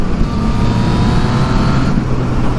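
A Yamaha MT-09 motorcycle cruises along a road between Weymouth and Portland Bill, its engine giving a loud, steady drone mixed with rushing wind noise, with no speech.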